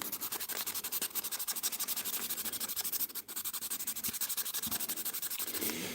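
A polishing wheel buffs a custom guitar pick in a workshop, giving a steady whirring rub with a fast repeating rhythm, fairly faint and alone throughout.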